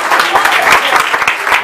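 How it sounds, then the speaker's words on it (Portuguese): A church congregation claps steadily in warm, dense applause that fills the whole moment without a break. "E vamos receber o pastor Ademir com as palmas que exalam o nome do Senhor Jesus."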